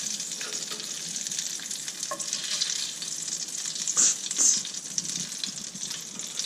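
Chicken katsu for spicy sandwiches frying in oil: a steady, close hiss and crackle of hot oil, with a few louder bubbling bursts partway through and no talking.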